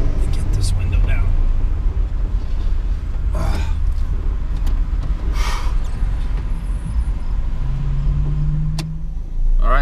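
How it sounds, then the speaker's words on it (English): A car's power window whirs down with a rising motor hum near the end, over an idling engine running with brake fluid in the gas tank, and cabin noise. "Let me get this window down."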